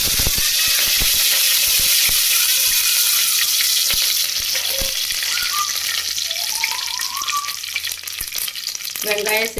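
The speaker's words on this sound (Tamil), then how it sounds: "கடுகு பொரிஞ்சிருச்சு. இப்போ கருவேப்பிலை சேர்த்துக்கிறேன்." Mustard seeds and curry leaves fry in hot oil, a steady loud sizzle with crackling pops and occasional stirring scrapes close by, no talking.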